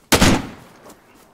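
A single sharp gunshot from DayZ bursts out close and loud, then rings off in a decaying tail with a faint second crack near the end.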